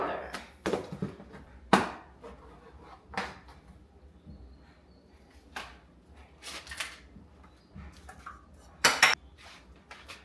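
Quick oats and pumpkin spice mixed in a bowl for oatmeal cream pies, with irregular clinks and scrapes of a utensil against the dish amid quieter stirring.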